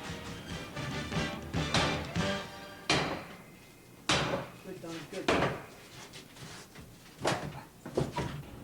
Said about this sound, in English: You then drive the hook end of the tool deep into the jamb and then pull down in an effort to rip the hinge from the door and the frame.